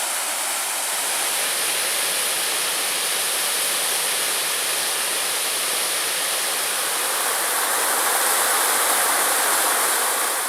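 Waterfall on a forest trail in the Porcupine Mountains of Michigan, flowing a little slower than usual; a steady, loud, broadband rushing roar that stays constant throughout with no voices.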